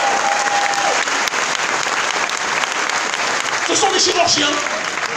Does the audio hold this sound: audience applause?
yes